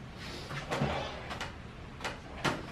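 A wooden drawer on a handmade toddler bed slides in and out several times, giving soft wooden scrapes and light knocks at a close, quiet level with no talking.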